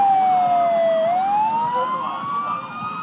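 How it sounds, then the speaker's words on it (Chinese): A fire engine siren wails loudly and close during a disaster drill at Luye Highland in Taitung, Taiwan, its pitch dipping then rising again in a long sweep over faint road noise. "消防车的声音响遍整个鹿野高台"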